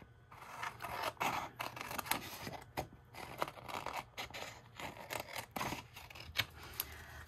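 Scissors cut paper for a coffee cup pocket craft, giving close, quiet, repeated snips and rustling crinkles at an uneven rhythm.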